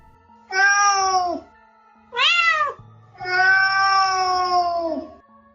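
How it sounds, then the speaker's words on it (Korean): A cat yowls loudly in three drawn-out, high-pitched wailing cries with short gaps between them, close and alone with no talk. "어디서 갑자기 고양이가 완전 시끄럽게 우는 거야"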